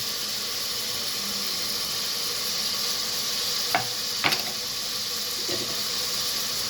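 A steady sizzle of spices and ginger garlic paste frying in a pan, with a few brief scraping stirs near the end.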